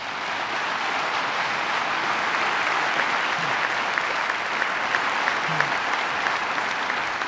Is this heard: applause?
yes